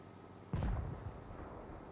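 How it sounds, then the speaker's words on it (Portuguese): A single heavy tank cannon shot from a British FV4005 tank destroyer in World of Tanks fires with a loud, sharp boom and then rumbles away, set against quiet game ambience with no talk. "Deu um tiro."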